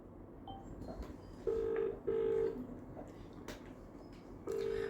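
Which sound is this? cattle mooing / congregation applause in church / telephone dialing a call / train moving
telephone dialing a call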